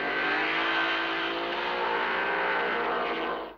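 Race cars at the start of the 1956 Le Mans 24 Hours roar together in a dense, loud engine drone with rich harmonics, holding steady before cutting away at the end.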